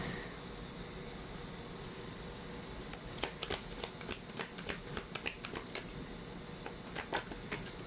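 Tarot cards are shuffled nearby, a quiet background hum first, then a run of crisp riffling flutters and snaps with no talking.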